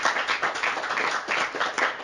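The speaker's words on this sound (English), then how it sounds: "if you guys could just give her a nice round of applause" A bookstore audience claps for an author, a brief burst of close, dense hand clapping from a modest crowd, steady throughout with no voices.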